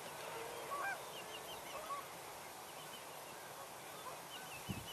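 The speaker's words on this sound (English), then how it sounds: "I believe that's greater yellowlegs we're hearing" Greater yellowlegs give faint, distant whistled calls in short repeated notes, scattered over a steady outdoor wetland background at a birding spot.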